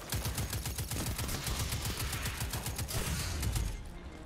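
Sniper gunfire in the video game Destiny 2, a rapid series of loud, sharp shots repeating steadily for several seconds with little pause between them.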